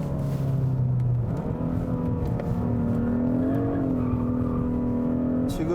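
Hyundai Sonata N Line engine in sport mode, heard from inside the car as a loud, steady drone that drops in pitch with a gear change, then holds and swells again under acceleration.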